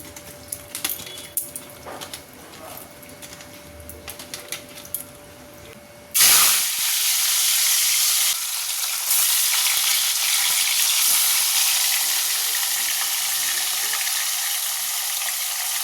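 Fish dropped into hot oil bursts into a loud, steady sizzle that keeps crackling close up, after a quieter stretch of kitchen sounds.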